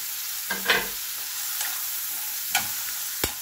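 Tomato and green chili stirred in a hot pan for pork pinakbet, a steady hiss of frying broken by a few sharp spoon scrapes and clicks, close and alone.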